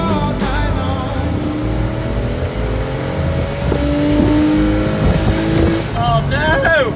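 Misfiring Porsche Boxster 986 with a 2.7L engine running loud and close. A steady engine drone rises gradually under music with singing, and a voice is heard briefly near the end.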